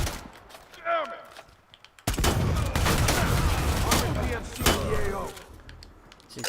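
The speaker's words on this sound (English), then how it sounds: "See, the shotguns are nice and powerful as well." Shotgun fire in the game Predator: Hunting Grounds, a heavy blast followed by a sustained burst of loud gunfire with brief pauses, with a voice talking over parts of it.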